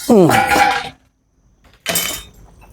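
A metal lid is set onto a boiling pot of duck soup, a single sharp clatter standing out between stretches of close talking in Thai.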